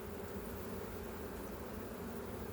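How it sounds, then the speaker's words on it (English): Honey bees drone in a hive as a new queen is marked, a steady, close buzzing hum from many insects at once, with no talking. "There's lots of bees up in there because they smell what residual pheromones she had in there"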